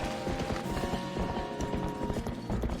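Horse hooves clip-clop in a steady, quick rhythm while riding in the video game Twilight Princess, over a busy game music backdrop with no talking.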